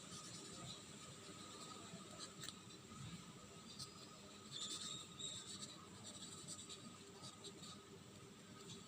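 A pen scratches faintly across paper during an online accounting class, soft intermittent strokes over a quiet background.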